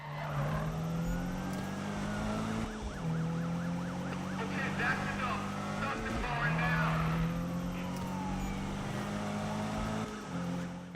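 Police sirens wail in a Need for Speed car chase, repeated rising and falling tones over a loud, continuous engine roar with tire skids, and a voice talks over it.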